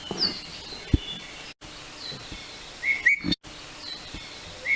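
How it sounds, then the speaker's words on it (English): A Hawaiian ʻiʻiwi sings in the forest, sending short high whistled and squeaky notes that repeat a few times over a steady hiss of insects and breeze, fairly faint and distant. "it's becoming harder and harder to hear the song of the EEV. But here it is."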